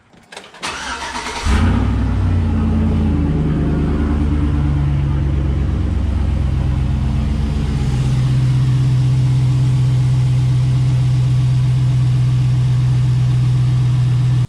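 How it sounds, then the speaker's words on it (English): A car engine is cranked and fires after a spark plug and coil pack job, a short starter whir followed by a catch and a steady, loud idle that settles into an even drone for over ten seconds. "I'm gonna crank it up, make sure everything's running right."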